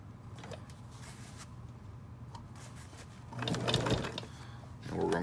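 A sewing machine runs one last forward stitch while pants are being sewn, a soft mechanical whir that swells briefly near the end under a quiet background.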